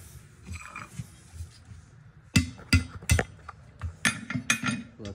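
A hammer tapping a rusty metal tire valve stem out of a wheel: several sharp metallic clinks, first a quick cluster of three and then a looser run of lighter taps, close up with faint background rustle between strikes.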